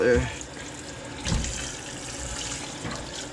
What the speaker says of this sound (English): Using a little bit of hot water now to unfreeze it.